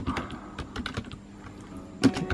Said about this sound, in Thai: ผมใช้คีย์บอร์ดพิมพ์มั่ง